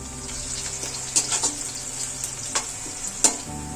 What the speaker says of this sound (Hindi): प्याज हमारा भुन रहा है, अब इसमें मैं डालूंगी लहसुन कटा हुआ।